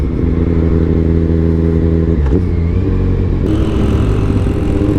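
A Kawasaki Ninja 1000 motorcycle with a cheap aftermarket exhaust rumbles steadily up close, deep and throaty with a constant harmonic drone, briefly dipping once midway.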